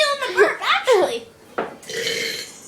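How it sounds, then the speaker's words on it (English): A child's burp rises during a kids' burping contest, with laughter and giggling around it and children talking amid the playful noise. "Hey, I'm feeling the burp, actually."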